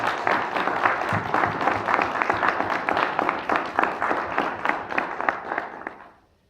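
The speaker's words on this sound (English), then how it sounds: "We give them both a big round of applause." A meeting audience applauds in a steady, dense burst of many hands clapping for several seconds, close and fairly loud, before the clapping quickly dies away at the end.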